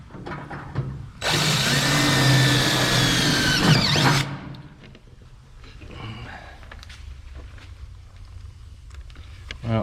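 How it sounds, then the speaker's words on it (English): A power drill bores a hole through a filler body panel on a 1967 Chevelle, a loud, steady whine lasting about three seconds before cutting off, followed by quieter handling noises. "let's drill another hole."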